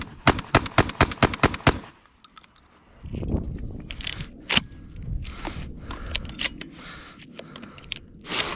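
Beretta A300 Ultima Patrol shotgun rapid-firing Fiocchi #7.5 dove loads, about nine sharp, loud shots in a fast, even string, then handling noise and clatter.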